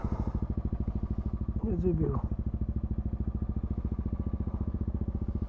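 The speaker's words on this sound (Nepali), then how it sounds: "दुइटै बाइक कोल्ड स्टार्ट हुँदैछ" Two motorbikes idling together after a cold start outside a hotel in Bandipur, a close, even, rapid low thumping that holds steady throughout, with a brief spoken phrase over it partway through.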